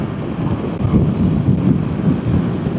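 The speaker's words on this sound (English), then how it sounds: "It sounds like there's quite a lot of wind noise coming through my helmet" Steady, loud wind roar buffeting a rider's helmet on a KTM 790 Adventure motorcycle at speed, a continuous low rumble with no talk over it.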